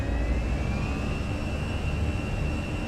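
Airbus A320 jet engines roar at takeoff thrust in a flight simulator, a steady, loud, broadband rumble with a thin high whine running through it, and no talk.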